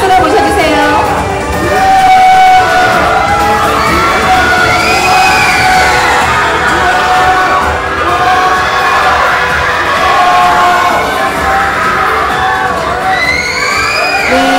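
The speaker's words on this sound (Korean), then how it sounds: "큰 함성과 박수로 모셔주세요." A loud, packed crowd at a Demon Slayer stage event cheers, screams and applauds as voice actors return to the stage. The sustained roar carries high excited shrieks and whoops that rise and fall throughout.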